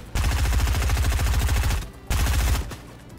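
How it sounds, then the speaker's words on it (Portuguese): Rapid automatic gunfire in a PC video game, fired at a destructible rock: a loud, close, sustained burst, a short pause, then a second burst that quickly fades. "Ainda bem que a pedra destrói com os meus tiros."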